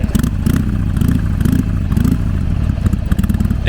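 A Honda Pan European ST1100 touring motorcycle engine is revved in quick repeated bursts, its loud throbbing exhaust pulsing rhythmically up close with a slight mechanical clatter, no voices.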